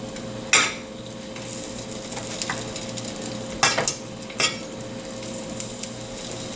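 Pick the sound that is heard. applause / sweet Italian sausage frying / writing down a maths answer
sweet Italian sausage frying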